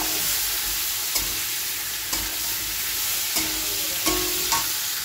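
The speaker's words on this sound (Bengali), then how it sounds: "দিয়ে এটাকে সুন্দর করে কষিয়ে নেবো।" Vegetables and spices with turmeric sauté in a pan in a home kitchen, a continuous close sizzle broken by several distinct clinks and scrapes of a spoon stirring at irregular intervals.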